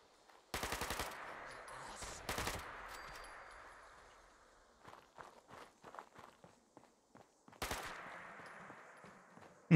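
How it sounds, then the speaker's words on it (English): Gunfire from Fallout 76 aimed at a mannequin: two short bursts of rapid shots early, a pause filled with in-game footsteps, then another burst near the end. "Shoot that mannequin."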